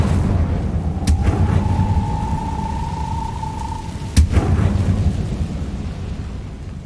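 An Incendio fire spell cast in Hogwarts Legacy: a sustained magical whoosh with a tonal hum, broken by two sharp bursts, the second a heavier boom, over a steady rumbling bed.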